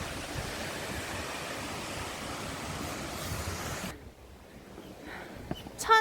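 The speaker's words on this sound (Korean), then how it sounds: "천재연 폭포." Steady rushing water from Cheonjeyeon Falls on Jeju Island roars close by for several seconds in winter, then drops away abruptly to a quieter background with a few faint knocks.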